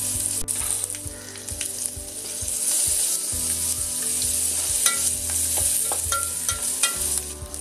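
Oil tempering for dahi kadhi crackles and sizzles loudly in a pan with curry leaves, mustard seeds and asafoetida. Stirring scrapes and clinks sound over the constant fry, with no talking.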